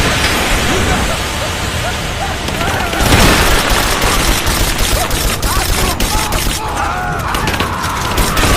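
Dense gunfire rages in a Rise of the Tomb Raider battle with Trinity soldiers, a loud, continuous fusillade of rapid shots and bursts with shouting voices mixed in throughout.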